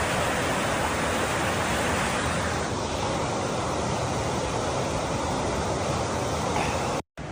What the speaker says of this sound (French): Au bord d'une rivière.